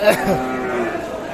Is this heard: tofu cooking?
no